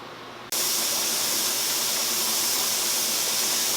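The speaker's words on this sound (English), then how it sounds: "When this pops up and we start having the steam come out, I will show you what that looks like." Steam vents in a loud, steady hiss from a pressure canner processing chicken bone broth, bursting on abruptly after a quieter half second and holding constant to the end.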